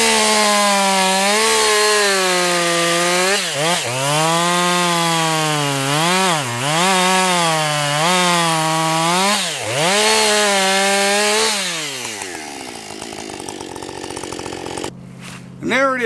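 A Jonsered chainsaw with a freshly sharpened chain revs and bogs through wood in a steady loud whine for about twelve seconds, its pitch dipping repeatedly under load, then idling down and cutting off.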